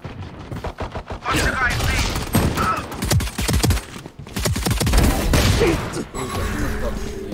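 Gunfire in the video game Valorant, rapid bursts of shots in clusters with a player talking over much of it.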